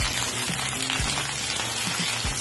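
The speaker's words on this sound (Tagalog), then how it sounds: "iprito natin ang patatas at carrots" Potatoes and carrots frying in oil in a pan for chicken curry, a steady close crackling sizzle with a few soft clinks, no talking.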